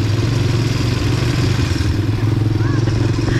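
An ATV engine runs during a ride in Boracay, a loud, close, steady rumbling throb with faint clatter and a brief voice partway through.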